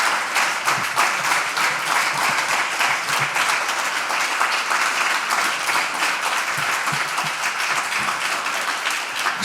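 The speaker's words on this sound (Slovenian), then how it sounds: "dajmo prosim lepo še en topel, čudovit aplavz za našo čudovito Evo" Warm applause from a concert audience for singer Eva at a charity music and arts festival concert, dense sustained clapping from many hands, loud and even throughout without talk.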